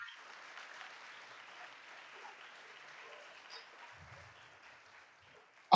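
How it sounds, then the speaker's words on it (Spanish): Church congregation applauding at a Sunday service, a steady wash of many hands clapping, fairly soft and distant, sustained throughout with a brief low murmur partway through. "aplaude al Señor todas las veces que quieras"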